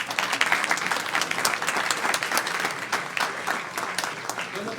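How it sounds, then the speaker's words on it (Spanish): Sustained applause from a church congregation during a sermon, dense clapping from many hands filling the room at moderate loudness and tapering slightly toward the end. "Aplausos para Él."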